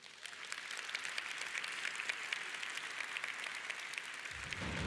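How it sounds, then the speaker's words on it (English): Steady audience applause fills a plenary hall at a conference, a dense wash of clapping held at even loudness throughout, with no voices over it. "So can we give them a warm round of applause?"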